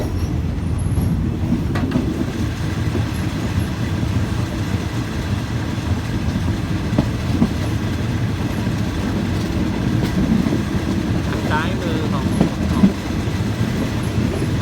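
An ordinary passenger train hauled by a GEK diesel locomotive rumbles steadily along the tracks in Thailand, with a continuous low roar and faint rhythmic clatter of wheels throughout.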